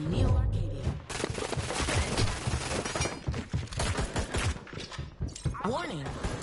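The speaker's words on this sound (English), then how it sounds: "Shots fired" Gunfire crackles in a PS4 video game as rapid shots and impacts, heavily mixed with voices and other game sounds throughout.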